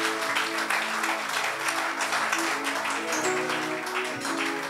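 Church congregation at a worship service clapping in a dense, continuous burst of applause with cheering voices mixed in, sustained for several seconds.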